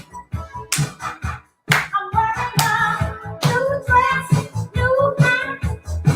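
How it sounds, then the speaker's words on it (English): At a family-friendly virtual drag show, hands clap in short sharp bursts along with a beat under music and vocals, the claps close and fairly loud in a steady rhythm. "Come on, keep on clapping."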